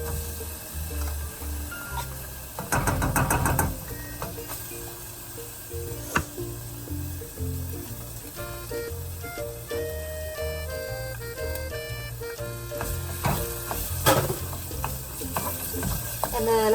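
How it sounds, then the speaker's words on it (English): Tomato paste for marinara sauce sizzles in a pan under steady stirring, with a few louder scraping bursts and utensil clinks, and no talking. "I'm going to add several tablespoons of this tomato paste"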